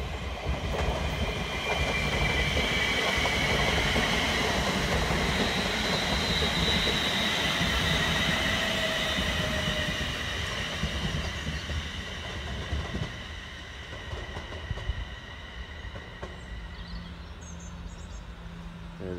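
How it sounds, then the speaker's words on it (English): A Transpennine Express Class 350 electric multiple unit pulls into Lancaster station, a loud, steady rumble of wheels and motors with rail clatter that gradually eases as it slows, and no talking. "The next train to arrive is a Transpennine Express service to"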